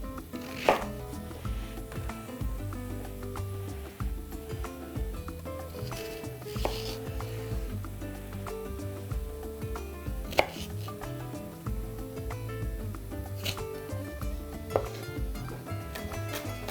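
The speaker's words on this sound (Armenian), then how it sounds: "Անմիջապես կկտրատեմ նաև սոխ սավզի, կտրատում ենք նույն կերպ" Green onion is sliced with a knife on a cutting board, giving a long run of quick, regular chops, close and crisp, with occasional louder knocks of the blade.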